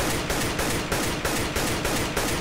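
Desert Eagle pistol fire in CS:GO rings out as a fast, even string of loud, close shots, each punchy blast running into the next over a dense, saturated roar.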